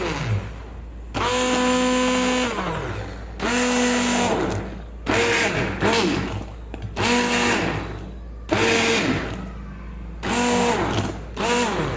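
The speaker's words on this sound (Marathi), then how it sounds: "आपली रवी असते नाहीतर हँड ग्राइंडर आपला हा असा, त्याने मी आता हे फिरून घेते" A handheld electric grinder whirs in repeated bursts of a few seconds each with short pauses between, loud and close as it blends hot cooked food in a home kitchen.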